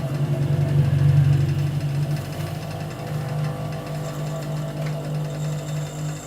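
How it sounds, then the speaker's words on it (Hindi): A sewing machine runs steadily while stitching the hem of a shalwar, a loud continuous motor hum and rapid needle chatter that eases slightly after the first couple of seconds and carries on to the end. "अब हम फिर से इसी तरह ही सिलाई लगाएंगे जिस तरह हमने पहले लगाई थी।"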